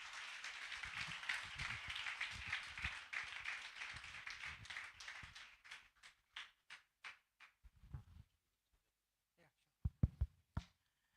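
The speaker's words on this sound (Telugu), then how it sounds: "ఒకసారి చప్పట్లు కొడితే ఆయన ఆహ్వానిద్దాం." An audience at a CPR training session claps to welcome the speaker, starting as dense, loud applause that thins to scattered individual claps and ends with a few sharp late claps.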